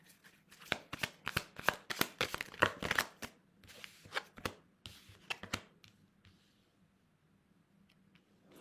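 Tarot-style cards shuffled and handled during a card reading, a quick run of crisp riffling slaps and flutters, close and fairly quiet, thinning out into near silence at the end.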